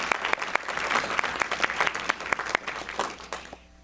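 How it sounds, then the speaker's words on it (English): An audience at a school board meeting breaks into applause, a dense burst of many hands clapping close and fairly loud, which fades out abruptly at the end. "you can clap"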